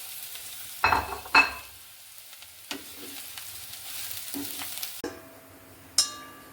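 Dried shrimp are tipped into a pan and fried for a shrimp chutney, with a couple of sharp thuds as they drop in, then a faint, low sizzle and occasional scrape or clink, close and quiet.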